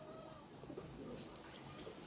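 A pigeon coos softly in a quiet room, low murmuring calls repeating faintly against a soft background hiss, with no talk.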